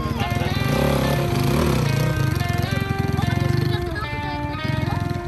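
A GR7 cross motorcycle revs as it rides off, its engine loud and close with a steady, rising buzz throughout, and a voice briefly talks over it.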